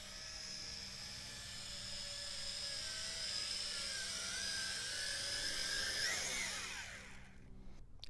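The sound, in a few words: Tarantula X6 quadcopter drone flying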